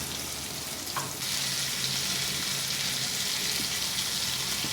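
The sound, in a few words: fenugreek seeds frying in hot oil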